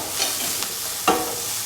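Tomatoes and salt being stirred into a frying masala of spices and oil: a soft sizzle under brief scraping strokes of a spoon, close and fairly quiet.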